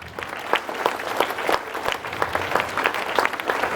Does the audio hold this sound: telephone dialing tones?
no